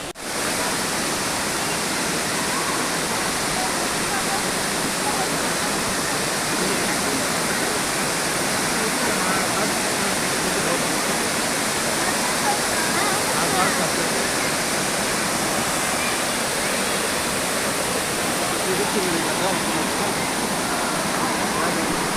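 Monkey Falls waterfall at Aliyar roaring steadily and loudly nearby, a dense unbroken rush of falling water that fills the whole stretch without pause.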